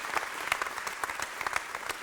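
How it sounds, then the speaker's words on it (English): A short round of applause from a community college class, scattered claps from a modest group with distinct individual hand strikes standing out over a quieter background. "round of applause."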